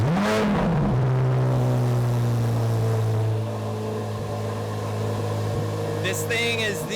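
A 2023 Corvette C8 Z06 on its stock exhaust fires up from cold with a loud, close bark, then settles into a high, steady droning idle, with voices heard toward the end.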